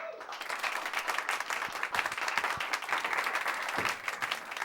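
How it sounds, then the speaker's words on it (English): A comedy show audience applauds stand-up comedian Georgia Barnes with a full, sustained burst of many hands clapping and some crowd noise, steady and fairly loud for several seconds. "Give one more round of applause for Georgia Barnes"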